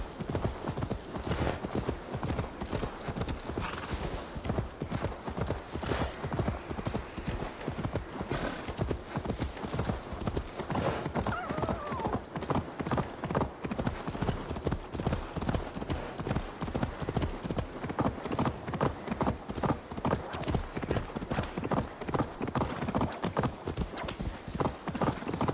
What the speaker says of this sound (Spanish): Caballo, una vez no quiere saltar y otra vez salta por donde hay un hueco.